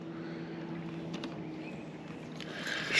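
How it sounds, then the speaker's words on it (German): A fishing boat's electric motor hums steadily while moving across a secluded forest lake during carp fishing, with faint water and wind noise around it. "Ich fahre einfach nur mit dem E-Motor in die Richtung, wo die Schnur hinführt."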